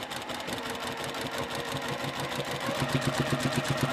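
A sewing machine stitches along the edge of a quilt block seam, its steady rapid mechanical whirring and needle pulsing running continuously and close, growing slightly louder and more rhythmic toward the end.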